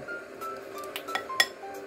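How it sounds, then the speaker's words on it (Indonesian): A spoon clinks lightly and irregularly against a bowl while four beaten chicken eggs are stirred with a teaspoon each of seasoning and salt, with a few sharper taps near the end and no voices. "Kita aduk ya hingga tercampur rata"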